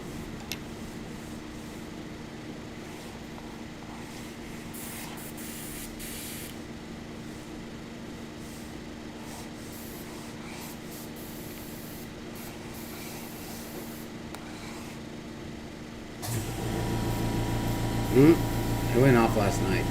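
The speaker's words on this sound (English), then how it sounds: "The air compressor. Oh, you're using it." An air compressor in a home alcohol-ink craft studio: a steady, low mechanical hum with airy hiss runs throughout, then the machine kicks on louder near the end, a fuller motor drone with rising hiss and a few brief sharp clicks.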